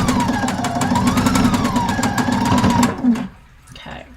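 A sewing machine top stitches a dress, its needle hammering in a fast, even rhythm with a steady motor hum, then stopping, followed by faint handling noise.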